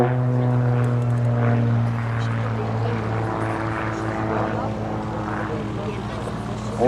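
A propeller aerobatic plane flies a rolling circle at Woodchurch, its engine a steady, close droning hum whose pitch wavers and bends through the manoeuvre, with muffled talking underneath.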